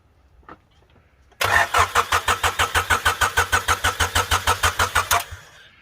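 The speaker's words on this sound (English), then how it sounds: "We're just gonna crank it without no fuel to get the turbo some oil." Honda Del Sol with a freshly installed turbo cranks over with no fuel, the starter churning in a steady rapid rhythm of about twenty even pulses for roughly four seconds, loud and close, then stopping without the engine catching.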